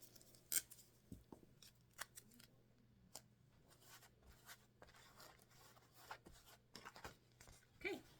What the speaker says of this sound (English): we're just going to cut a quick piece of tape to go over that